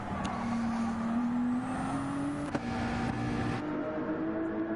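Race cars in a racing video game drive on the Dragon Trail Seaside track, one engine note climbing steadily as it accelerates through the gears over a dense bed of other car noise.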